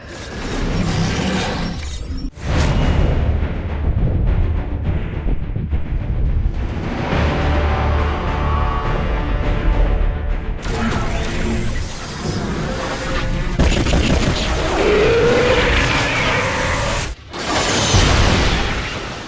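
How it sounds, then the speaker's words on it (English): Orbital strike from the Spear of Adun in StarCraft 2 game combat: a loud, dense barrage of booming blasts and shattering crashes lasting many seconds, with brief dropouts and a bright sweeping whine near the end. "Orbital strike is online."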